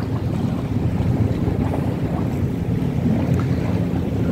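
A ferry's motor drones over wind buffeting the microphone and washing water at a Whampoa, Hong Kong seaside harbour, a continuous rough rumble with no voices.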